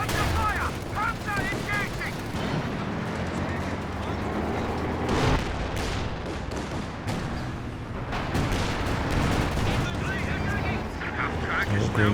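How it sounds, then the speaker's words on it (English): A walking Stuka air strike in Company of Heroes 2 hits amid a dense battle, with repeated loud explosions and gunfire layered over continuous combat noise while a commentator talks throughout. "Now a walking Stuka coming in from LeiLei."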